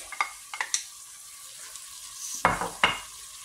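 Vegetables frying in a pan as tomatoes and a bay leaf are added, producing a steady sizzle with a few sharp clatters and stirring bursts, loudest near the end.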